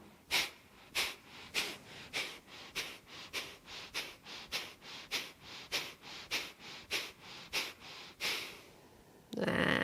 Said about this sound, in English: And then take a breath, another 12. Breathe in. Exhale.